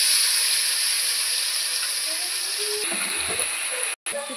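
Whole garam masala, dried red chilies, bay leaves and cumin dropped into hot oil, a bright continuous sizzle with faint crackles, close and steady, briefly cut off near the end.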